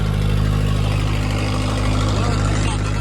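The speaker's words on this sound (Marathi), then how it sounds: "मोटारचा आवाज आहे पाठी." A boat motor drones continuously and loudly at sea near Alibag, a steady low engine hum that fills the background while a person talks over it.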